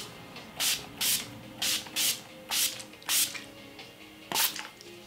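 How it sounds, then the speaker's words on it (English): Makeup setting spray misted onto a face in short bursts, about eight crisp airy hisses in a steady rhythm, close and fairly loud with no speech. "I go ahead and mist my face again with my makeup setting spray to ensure that this is gonna last."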